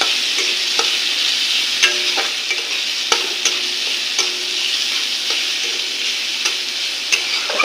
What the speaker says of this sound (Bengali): এটাকে ভালোভাবে কষাবো এই মশলাটাকে